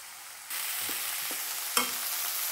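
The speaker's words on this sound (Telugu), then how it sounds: "పుదీనా కూడా మంచిగా ఫ్రై అయ్యిందండి, తీసేద్దామండి." Mint leaves frying in a pan while being stirred, a steady close sizzle with a few soft scrapes and one sharper clack of the spoon against the pan.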